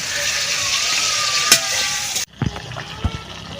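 Spice paste sizzles loudly in a hot pan with steady frying hiss and a few stirring scrapes, then abruptly quiets to soft clinks and knocks.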